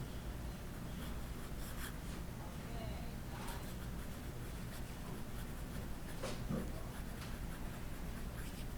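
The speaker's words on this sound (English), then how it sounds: "Very smooth. The pen writes well." A light Benu Scepter IV fountain pen writes on paper, giving a faint, steady scratching that continues quietly for several seconds over low background hum.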